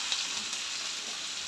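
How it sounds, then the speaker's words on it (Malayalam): Onions sauté in a pan for a beef dish, making a soft, even sizzle that runs steadily through the short stretch without talk. "ഇപ്പം ഞങ്ങൾ ഉള്ളി വഴറ്റാം."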